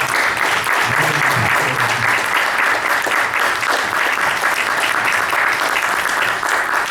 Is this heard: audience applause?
yes